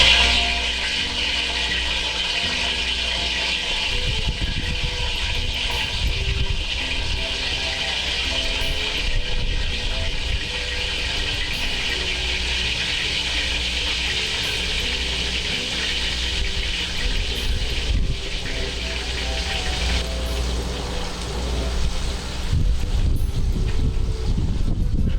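Calf fries (Rocky Mountain oysters) fry in a chicharrone pork-skin pan, a steady loud hissing sizzle that continues without letup throughout.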